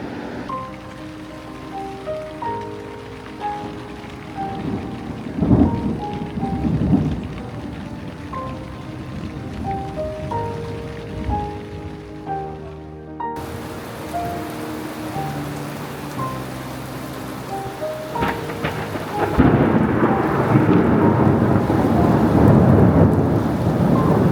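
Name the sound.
rain falling at riverside in Ladakh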